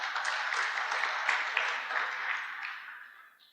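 Farmers at a no-till club conference applaud a yield competition finalist, a soft, even spread of clapping from a crowd heard at some distance, fading out toward the end.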